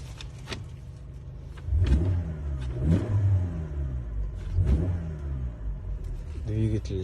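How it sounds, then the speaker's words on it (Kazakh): A Toyota Camry 70 engine revving, with several rising blips of acceleration over a steady idle rumble, close by, while someone talks over it. "Двигатель жақсы істеп тұр."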